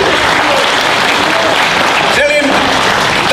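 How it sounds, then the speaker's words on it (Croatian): An audience at a folk music festival in Rudo applauding the host, a sustained, dense round of clapping with a voice briefly speaking over it toward the end. "Ajmo da ga pozdravimo s jednim aplauzom"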